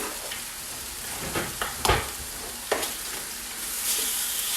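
Bacon sizzles loudly in a frying pan, a constant hiss with a few sharp pops and utensil clicks, heard alone.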